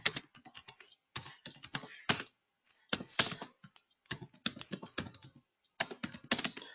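Computer keyboard typing Linux commands such as lsmod, bursts of quick close key clicks separated by short pauses, crisp and moderately quiet.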